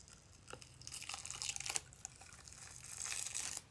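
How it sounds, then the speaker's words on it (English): Zipper pulled open while special effects makeup prosthetic is peeled and ripped off, a close crinkling, tearing texture with a few sharp crackles and a rising rasp near the end; no talking. "If I just pull the zipper, will it rip off?"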